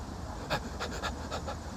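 A person imitates a dog panting with a quick series of short breathy huffs, about six in under two seconds, close and fairly soft.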